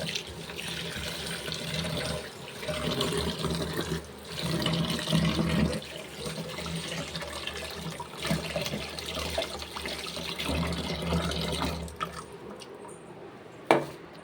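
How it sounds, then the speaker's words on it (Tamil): Water poured onto pearl millet grains in a kitchen for traditional kambu koozh, a steady running, splashing flow lasting most of the clip before stopping near the end, with no one talking. "தண்ணி ஊற்றி கொஞ்சம் நேரம் வச்சிடலாம்."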